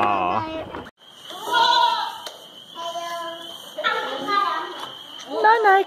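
Goats on a farm bleat several times in loud, wavering calls, with people chatting and cooing close by between and over the cries.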